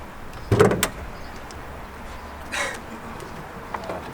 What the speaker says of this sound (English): Maybe we should pop the hood quickly